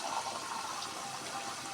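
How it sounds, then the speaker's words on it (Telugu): Boiled water poured into a simmering ivy gourd curry, a steady soft gush of liquid running without a break, fairly quiet and with no talking. "కాస్త నీళ్ళు పోద్దాం"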